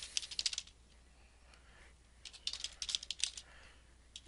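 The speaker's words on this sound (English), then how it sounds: "Now what I'm gonna do with this one is I'm gonna type in my website." Fingers type a website address on a computer keyboard, two quick bursts of light, close key clicks separated by a short quiet pause, with no talking.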